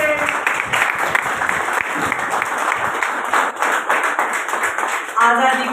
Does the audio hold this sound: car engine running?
no